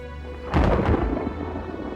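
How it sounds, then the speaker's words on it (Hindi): A deep rumble of thunder bursts in suddenly and rolls on loudly, then fades slowly beneath the steady hiss of falling rain. "और बादल गरजने की आवाज आ रही थी"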